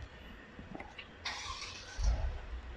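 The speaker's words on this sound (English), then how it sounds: "BB will show you how to start the car" A Japanese show car's engine cranks and catches, a brief starter whir followed by a low rumbling idle that swells near the end, close by and fairly quiet.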